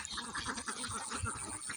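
Ducks raised on a duck farm quack in a dense, continuous chorus of overlapping calls throughout, steady and fairly loud with no clear pauses.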